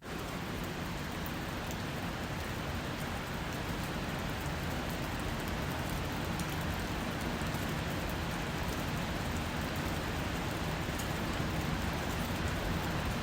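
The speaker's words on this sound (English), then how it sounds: "Here is some of the heaviest rain I've ever heard in my life." Very heavy rain recorded on a phone pours down in a dense, steady hiss with no letup, filling the whole stretch evenly and with no voices.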